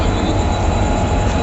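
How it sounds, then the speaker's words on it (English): A train pulls away from Udupi railway station, heard from inside a passenger compartment as a loud, steady rumble and rattle of the carriage. "So the train just left Udupi railway station"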